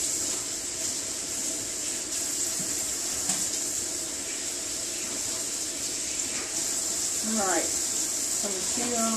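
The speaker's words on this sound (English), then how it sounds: "So I'm going to finish rinsing off my tomatillos for my salsa." Tap water runs steadily into a sink while tomatillos are rinsed for salsa, a constant close splashing flow with a few small clatters and brief handling noises near the end.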